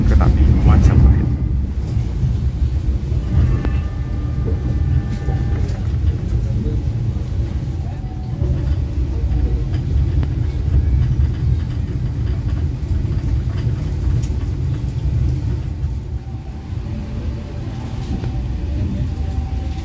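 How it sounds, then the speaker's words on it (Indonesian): A Majapahit economy new-generation passenger train running, its steady, loud low rumble and rolling drone filling the space continuously, with faint higher squeals drifting in and out. "Kita nikmati perjalanan bersama ekonomi new generation kereta api Majapahit."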